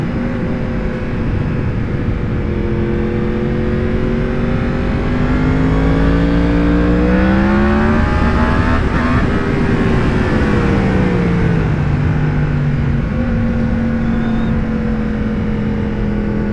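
A loud motorcycle with a factory exhaust revs up and down in sweeping pitch, rising to a peak and falling away, close by with a continuous exhaust roar.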